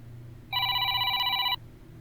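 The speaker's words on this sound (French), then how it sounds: "Oh, le téléphone." A telephone rings once in a horror video game. The single bright electronic ring lasts about a second over a low background hum.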